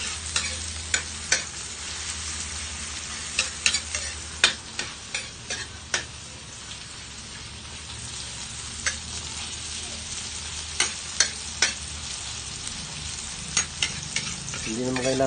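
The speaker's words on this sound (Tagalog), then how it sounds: "Hindi naman kailangan sunugin ang bawang, sibuyas at luya." Garlic, onion and ginger sautéing in a pan for pork batchoy, a steady close sizzle broken by sharp clicks of a utensil stirring against the pan, with no talk.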